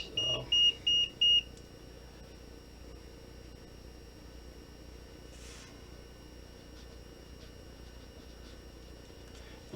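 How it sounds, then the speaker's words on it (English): Four quick high-pitched electronic beeps sound at the start, then the rest is faint background hum with a soft click midway. "Not sure what's beeping at me."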